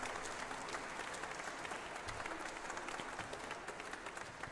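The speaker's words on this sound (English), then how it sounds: "Please clap." Distant, faint audience clapping at a presentation, a continuous crowd applause texture with scattered sharper claps throughout.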